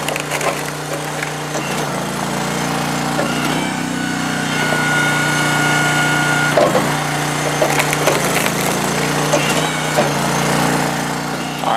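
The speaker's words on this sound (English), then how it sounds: "Right there, you heard the motor bog just a little bit, but it never hardly went to stage two." Hydraulic log splitter engine running steadily under load as a log is split, with a slight bog in the motor note and wood crunching and splintering over the continuous hum.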